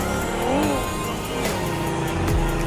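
A Bugatti Veyron car engine in the video game PUBG, a steady loud motor drone with rising and falling revs and a brief pitch sweep near the end, continuous throughout.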